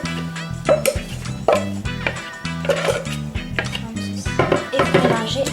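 A spoon clatters and scrapes inside a bowl while stirring cake batter of flour and egg whites, giving repeated clinking knocks in an uneven rhythm, close and fairly loud.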